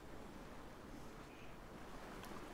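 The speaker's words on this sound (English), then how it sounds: "Well, look at that waterfall." A waterfall in the fantasy role-playing game Divinity: Original Sin 2 gives off a steady, dense rushing roar of falling water, constant and even throughout.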